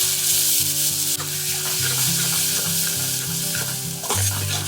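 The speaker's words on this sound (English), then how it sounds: "So we're going to fry this till the oil separates." Masala paste with turmeric, curry leaves, ground spices and a wet ground paste frying in oil, a loud steady sizzle throughout with scraping stirs and a few metallic clinks, no talking.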